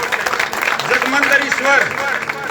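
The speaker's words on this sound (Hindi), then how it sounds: "तालियां बजाएंगे बहुत जोर से।" An audience claps at a village welcome gathering for a local legislator. The applause is close and steady, and a voice speaks loudly over it throughout.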